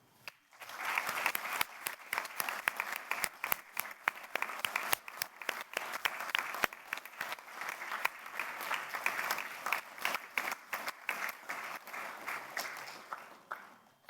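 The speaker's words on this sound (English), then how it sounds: "And let's give them applause." Audience applause for new members at a Royal College of Physicians ceremony, a dense, steady clatter of many hands that swells quickly and holds for about fourteen seconds before tapering off, with no voices over it.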